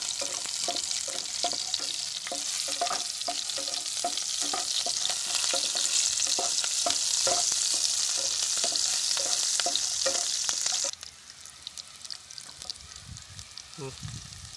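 Garlic greens and green chilies fry in an oil-filled pan for a spicy potato masala, a loud, steady sizzle with stirring scrapes throughout, dropping abruptly to a quieter crackle near the end.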